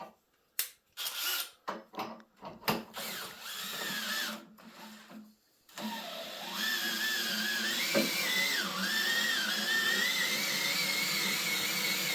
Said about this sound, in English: instead of doing the hand crank, get a 22mm socket on a drill